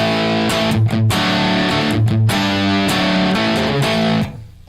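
A loud, heavily distorted electric guitar through a Marshall-style amp with a 6L6 tube prototype at 2.7 watts plays a short riff of sustained crunchy chords before cutting off and ringing down.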